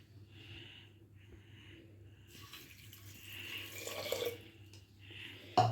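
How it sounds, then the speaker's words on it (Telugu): A glass of water is poured into a pressure cooker: faint, close splashing runs for a couple of seconds midway, with quieter trickles around it and a small knock at the very end. "అలాగే కాస్తంత ఒక గ్లాస్ వాటర్ అయితే వేసుకోవాలి."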